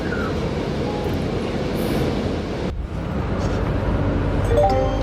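A train rumbles along steadily with a low, continuous roar of wheels on track, heard from inside a carriage, with a brief dip partway through.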